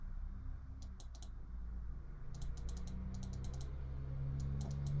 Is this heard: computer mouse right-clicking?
yes